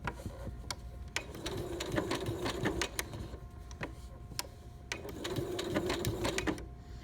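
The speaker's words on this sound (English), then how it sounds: "having needle up, needle down is a wonderful feature on a machine for applique" A sewing machine stitches an applique buttonhole stitch in two bursts of rapid, even whirring, with stops and starts, close and moderately loud, separated by quieter clicks of handling.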